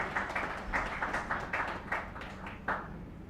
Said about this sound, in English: Please, a big round of applause for this part.